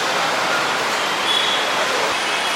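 A Mumbai local metro train gives a constant loud roar of running carriages and rattling wheels, with a brief thin squeal partway through and no talk.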